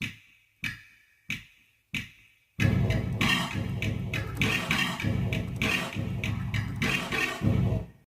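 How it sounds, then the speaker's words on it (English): Four sparse drum hits made from Minecraft Movie sounds, including a pitched-down brick sound, each with a reverb tail, give way to a steady, dense reverb-drenched drum groove running to the end. "Let's add some reverb. Final drum kit sounds like this."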